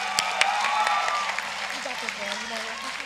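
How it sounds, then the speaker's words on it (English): Applause breaks out at a high school graduation ceremony as a student representative is introduced, with a crowd clapping steadily throughout while a voice talks over the clapping. "Give her a round of applause, guys."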